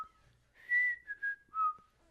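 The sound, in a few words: whistling imitating The Andy Griffith Show intro tune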